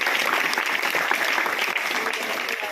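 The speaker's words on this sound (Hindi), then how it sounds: "जोरदार तालियां उनके लिए।" Steady applause from an audience at a village school gathering, dense clapping filling the whole stretch at even loudness with no pauses.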